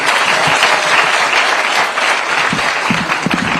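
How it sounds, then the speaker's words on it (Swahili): A crowd claps loudly and continuously, a dense, steady patter of applause that fills the room. "Makofi, makofi, makofi."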